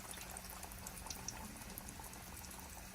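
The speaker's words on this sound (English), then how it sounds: "While that's frying a little bit" Continuous dense bubbling sizzle of schnitzel frying in a pan at around 350 degrees, steady and moderately quiet, with no voices.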